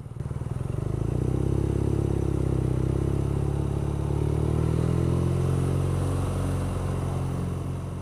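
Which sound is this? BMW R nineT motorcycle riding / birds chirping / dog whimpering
BMW R nineT motorcycle riding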